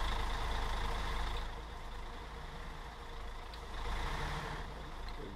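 A freight truck inches back into a tight spot, its reversing alarm beeping steadily over a low diesel rumble, with a faint hiss of air brakes and no voices.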